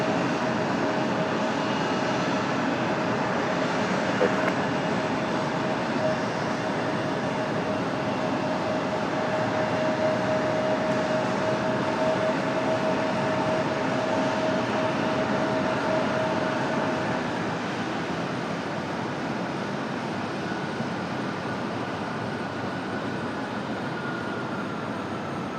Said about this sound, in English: Delta finally getting out of here after sitting out on the taxiway for most of the show so far.